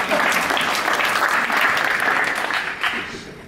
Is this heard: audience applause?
yes